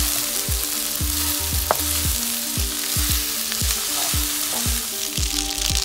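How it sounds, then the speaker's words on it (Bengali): Spaghetti for chicken chow mein is stir-fried in a pan, a steady close sizzle with a regular rhythm of scraping and tossing strokes. "ভালো করে নাড়াচাড়া করে নিচ্ছি।"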